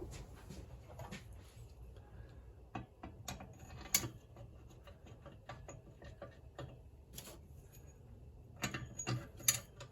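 A torque wrench tightens the crankcase bolts on a BMW R1200GS engine during a main bearing and crank check. Faint, close, irregular ratcheting clicks and metallic ticks sound against a quiet background, with no talking.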